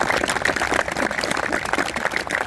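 A crowd applauds Vietnam era veterans at a veterans' ride event at a war memorial, with dense, steady clapping that fills the whole stretch at moderate level.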